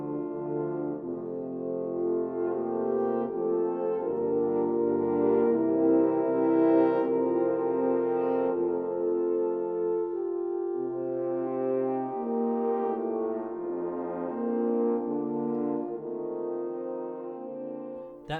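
Choir singing Rheinberger's motet Abendlied, recorded at home with impulse-response reverb added, sustained chords moving slowly in a smooth, continuous flow for the whole stretch.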